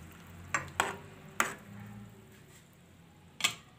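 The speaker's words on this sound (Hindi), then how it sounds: "ये बंद गोभी डाल देते हैं और इसको मिक्स कर देते हैं।" Cabbage and carrots get stirred in a pot with a few sharp scrapes and clinks of the spoon, spaced apart over a faint background sizzle.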